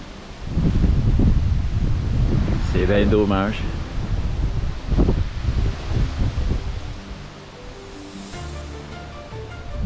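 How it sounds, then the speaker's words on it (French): Strong wind on L'Isle-aux-Coudres, Quebec, buffets the microphone in loud, gusty roars that ease off toward the end, with a person speaking briefly beneath the noise. "Et il y a beaucoup de vent, beaucoup."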